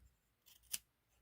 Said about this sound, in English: I'm not used to using big scissors for itty bitty cutting.